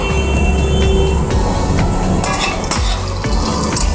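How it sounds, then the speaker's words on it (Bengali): Whole cumin seeds dropped into hot oil over browning potatoes give a loud, dense sizzle with scattered crackles and a few pot and utensil clinks, no talking. "এখন আমি দিয়ে দেব গোটা জিরে"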